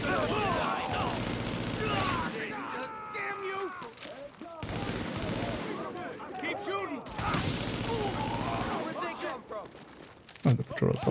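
Gunfire in The Division shooter game, repeated bursts of automatic fire and impacts across the stretch, with someone talking over much of it.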